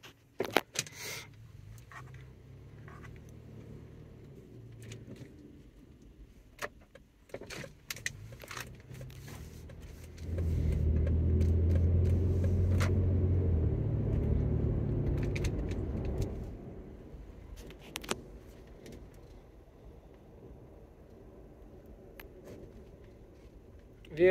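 A 2007 Toyota FJ Cruiser pulls away, its engine rising into a steady low drone for several seconds in the middle, preceded and followed by quieter cabin clicks and handling noises.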